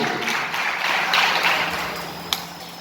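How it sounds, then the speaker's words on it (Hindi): Loud applause from a crowd welcoming a speaker at a Nishad Party district president's reception, a steady wash of clapping for the whole stretch with a single sharp tap standing out near the end. "जोरदार ताली से स्वागत होना चाहिए साथियों, जोरदार ताली से स्वागत होना चाहिए"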